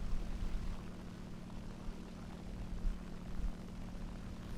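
A propeller aircraft in the War Thunder video game produces a steady, low engine drone throughout, faint and even, with no voices over it.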